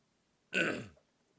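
A single short, rough throat sound, like a cough or throat clearing, close and fairly loud against a quiet background.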